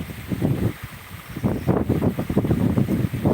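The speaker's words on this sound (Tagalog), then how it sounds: "Ang lakas ng hangin." Strong wind buffets the microphone in rough, rumbling gusts that rise and fall throughout, loud and close with no voices.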